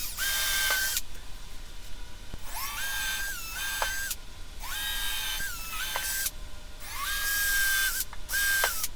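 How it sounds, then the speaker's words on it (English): A power drill pre-drills mounting holes in small wooden shelves for a wrench organizer panel, running in several short bursts of rising, whining motor pitch separated by brief pauses, close and fairly loud. "I pre-drilled the mounting holes on the 2 smaller shelves in the front."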